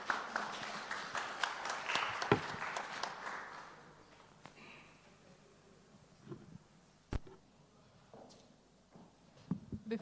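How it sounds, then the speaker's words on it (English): Conference audience applause, a dense burst of clapping that fades out after a few seconds into a quieter room with scattered knocks and footsteps. "Please give a round of applause as we show their gratitude."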